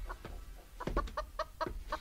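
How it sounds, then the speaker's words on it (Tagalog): Several chickens cluck in short, repeated bursts close by, with a low rumbling background throughout. "Sapay nagadot ti manok da dito'y parangan da."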